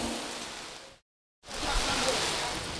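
Steady rain falling at an outdoor community gathering, a dense even hiss that cuts out briefly and then returns just as full.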